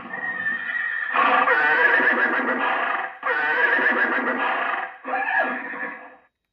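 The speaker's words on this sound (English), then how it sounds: "You can see the horse sound is quillable." An electronic horse neigh sound effect from a Lionel Vision Line toy train horse car plays as three close, loud whinnying bursts, the last one shorter, with clip-clop-like texture and no talking.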